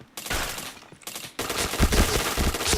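Heavy automatic gunfire from a shooting video game, sustained and loud, with a brief drop-off before another dense burst of rapid shots.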